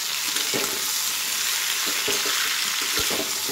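Vegetables including drumstick pods fry in a pan, giving a loud, steady sizzle close by with a few soft scraping stirs at irregular moments and no talking.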